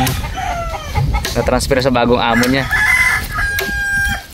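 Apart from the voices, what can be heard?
rooster crowing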